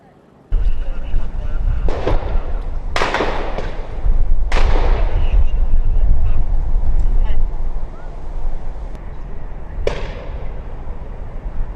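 Several sharp, loud rifle gunshots ring out at irregular intervals over a noisy, rumbling background in Bankers Hill during a SWAT standoff, with distant echoes trailing each shot.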